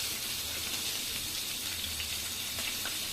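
A curry of pangas fish and taro stolons cooks in a pan with a soft, continuous sizzle and hiss and faint scraping from stirring; no speech.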